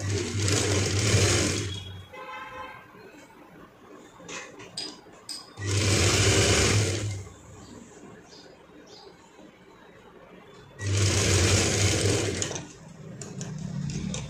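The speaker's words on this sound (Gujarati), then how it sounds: "આવી રીતે આપણે સિલાઈ કરી લેવાની છે" A sewing machine stitches fabric for a small child's dhoti in three separate close, loud bursts of rapid whirring, with quiet handling noises between them.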